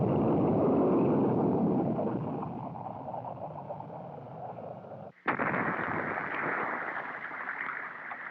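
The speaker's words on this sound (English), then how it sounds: "This early flight ended with an explosion that was visible for miles." A deep, loud rumbling roar from an early Minuteman missile test flight that ended in an explosion fades over several seconds, then a sharp burst cuts in and a second broad roar follows.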